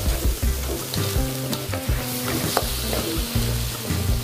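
Tofu frying in olive oil, a loud, dense sizzle that runs without a break, with stirring scrapes and clinks of utensils mixed in.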